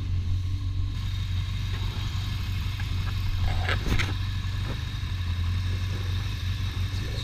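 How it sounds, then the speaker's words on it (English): A Yamaha XJ600 motorcycle engine with a spark problem idles steadily and close by, a continuous low rumble with a brief crackling snap near the middle as spark arcs on the engine. "it starts arcing on the engine itself"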